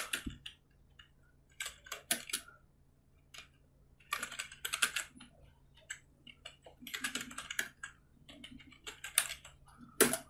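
Computer keyboard typing in short bursts of quick, crisp key clicks with pauses between them, close and fairly quiet, entering a command in a Kali Linux terminal.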